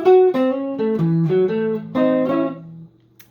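A single electric guitar plays a short melodic lick of plucked notes, clean and close, ending on a sustained tone before fading to near silence.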